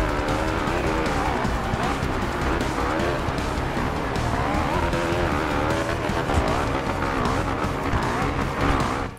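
A revving motocross bike engine in the video game MXGP2, shifted manually, drones loudly and steadily throughout, pitch rising and falling as it shifts gears, with a constant mechanical roar underneath.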